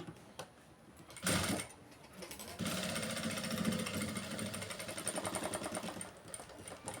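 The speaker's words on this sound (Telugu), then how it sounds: "చాలా స్లోగా నేను స్టిచ్ చేస్తున్నానండి" A sewing machine stitches a designer blouse slowly, its needle running in a steady rapid chatter for several seconds after a brief burst, close and fairly loud, then winding down.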